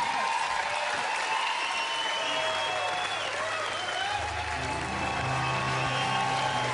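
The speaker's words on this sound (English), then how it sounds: "Another round of applause," Live concert audience applauding steadily after an acoustic performance, a dense, continuous wash of clapping and crowd noise filling the space, with faint musical tones underneath.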